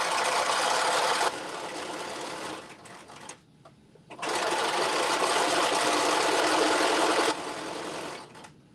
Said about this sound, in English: I remember when I first got this sewing machine